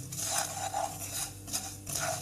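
Black salt and spices being stirred in hot oil in a karahi for chotpoti masala, giving soft scraping and rubbing strokes with faint sizzling, close and quiet, without speech.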